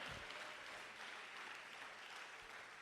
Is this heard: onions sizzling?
no